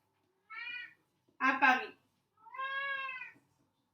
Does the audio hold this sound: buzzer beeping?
no